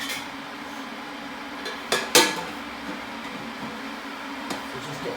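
Saucepans clank and knock together in a home kitchen, with a couple of loud metallic clatters standing out above a steady low background hum and a fainter knock near the end.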